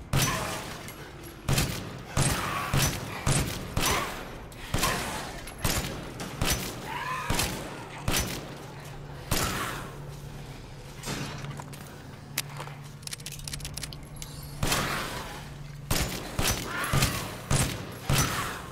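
Pistol shots in the VR game Resident Evil Village, sharp loud cracks fired singly at irregular intervals, each with a short decaying tail, over a low ambient hum and some game noise.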